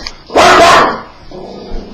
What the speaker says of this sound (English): my dog likes to watch out the window and see foot traffic, and he ends up barking sometimes at people going by